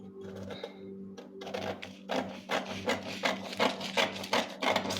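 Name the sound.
cutting paper pattern with paper scissors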